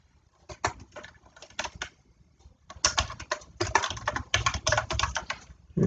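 Fast typing on a computer keyboard as text is entered in a PDF editor: close, crisp key clicks in bursts with a short pause, then denser rapid clatter, with no voices.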